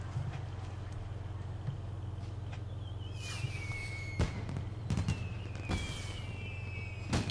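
Fireworks in Final Fantasy XIV: sharp pops and bursts over a steady low hum, with rising whistling streaks as rockets climb, several bangs clustered toward the end.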